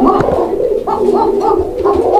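Pigeons at a Bangladeshi pigeon farm coo in repeated soft, rounded calls close by, several birds overlapping in a steady rhythm over a low murmur of wings and rustling.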